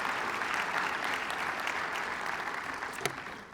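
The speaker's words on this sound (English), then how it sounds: "So just a round of applause for Karen and Phil." Audience at a hockey volunteer orientation applauds steadily, a dense wash of many hands clapping throughout, with a brief louder clap near the end.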